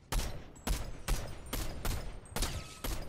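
Rapid bursts of gunfire from guns in the video game Fortnite, about six loud, sharp volleys in quick succession, each with a brief rattling tail, heard alone without talk.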